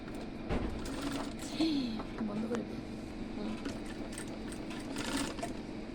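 While a petticoat is stitched, a sewing machine hums and whirs softly and continuously beneath a person talking, the machine noise staying faint and low throughout.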